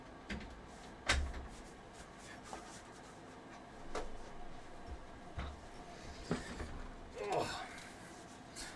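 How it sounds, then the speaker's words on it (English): A room door pushed shut indoors, a quiet thud followed by scattered soft knocks and rustles from handling, fairly faint and close with no speech. "I gotta close my door"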